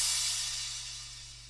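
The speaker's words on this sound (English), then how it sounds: "With the first crash, which I'm getting from Sematics, it sounds like this." Crash cymbal sample from Sematics struck once, a bright washy splash that decays steadily over a second and a half over a faint low hum.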